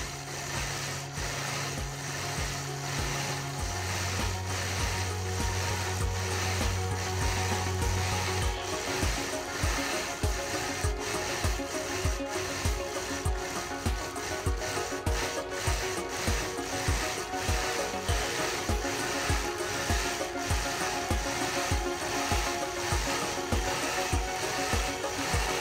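A sewing machine stitching figure eights into a quilt, running as a steady fast mechanical chatter of repeated needle strokes, loud and close, with brief low hum tones early on and no talking.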